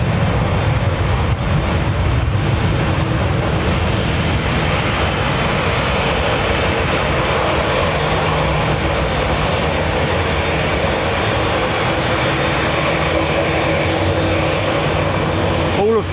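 A British Airways Airbus A350-1000 at London Heathrow Airport gives a steady, loud jet-engine roar that holds unbroken for the whole stretch.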